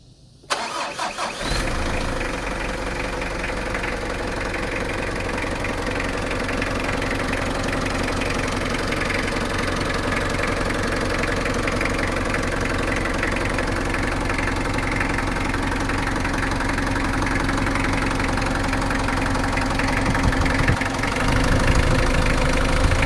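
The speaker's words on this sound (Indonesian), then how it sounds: "Nanti kita akan coba startup mesin mobilnya ya." An old Mitsubishi Kuda diesel engine cranks and catches, then settles into a loud, steady clattering idle that runs on without pause, heard up close.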